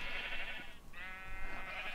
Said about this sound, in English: She's got a bunch of sheep down here, different colors